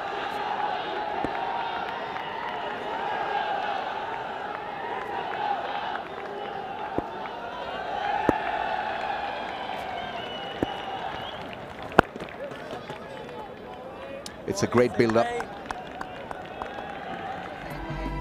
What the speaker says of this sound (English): A lot of passion being shown by the Afghanistani crowd.